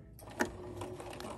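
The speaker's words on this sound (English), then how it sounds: "Then I'm going to continue to sew forward as straight as I can" A sewing machine stitches a straight seam in purple fabric with soft, quiet, rapid mechanical ticking and whirring, close by and without talk.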